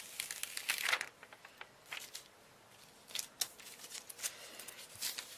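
Vinyl backing being peeled slowly off a fusible vinyl silk screen, a faint close crackling and crinkling that comes in scattered short bursts, with no voice.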